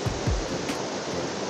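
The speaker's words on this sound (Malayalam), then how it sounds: "ഇത്ര ദൂരത്ത് നിന്നിട്ട് നമുക്ക് അതിൻ്റെ വെള്ളത്തിൻ്റെ ഫോഴ്സ് മനസ്സിലാക്കാൻ കഴിയുന്നുണ്ട്" Thusharagiri waterfall roaring steadily from a distance, a broad continuous rush of falling water with low rumbling gusts, no voices over it.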